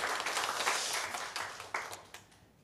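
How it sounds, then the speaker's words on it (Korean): A church congregation claps together in thanks, a short burst of scattered, fairly quiet clapping that thins toward the end. "우리 하나님께 감사의 박수하겠습니다."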